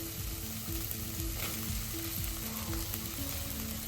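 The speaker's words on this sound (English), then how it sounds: "now I'm gonna add my green onions and just saute them up just for a minute or two" Green onions sauté in a pan with a dense, continuous sizzle, fairly soft and steady, with faint stirring throughout.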